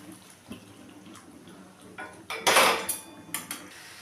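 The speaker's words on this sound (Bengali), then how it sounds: "দিলাম একটু গরম জল।" Hot water is poured into a pan of Bengali katla fish curry, a brief loud splashing burst mixed with metallic clinks of utensils against the pan over a quiet kitchen background.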